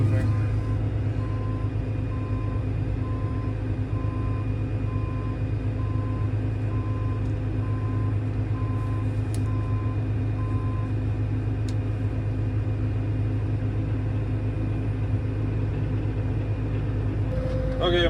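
Fendt 1167 Vario MT tracked tractor creeping along, its engine a steady loud rumble with a regular reversing beep repeating for about ten seconds, and someone talking over it.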